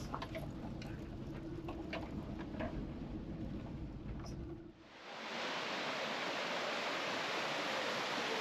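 A waterfall beside the mountain road from Kavunji to Mannavanur near Kodaikanal, a loud, steady broadband rush of falling water that surges fuller and brighter partway through and continues alone.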